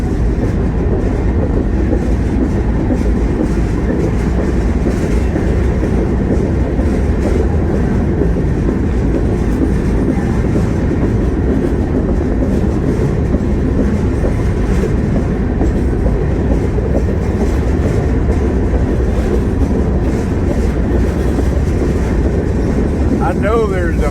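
A freight train rail car rolls along tracks through Illinois, heard loud and close from on board, with a constant heavy rumble and faint clattering from the wheels that never lets up.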